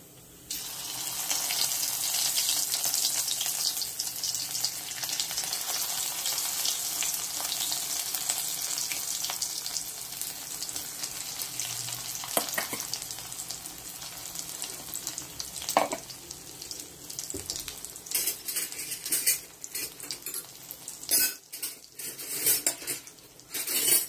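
A spice paste of coriander, garlic and ground red chilli sizzles and is stirred in a pan for a mutton and quail curry, with a continuous frying hiss, scraping and clinks of a utensil against the pot.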